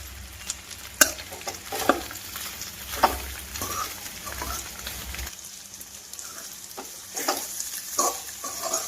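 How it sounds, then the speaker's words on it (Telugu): Cauliflower pieces fry in a pan with a crackling sizzle broken by sharp pops and stirring scrapes, quieter in the middle and then rising again, with no speech. "ముక్క ఇలా మెత్తగా మగ్గిపోయిందండి ఇంకాను వేగిపోయింది"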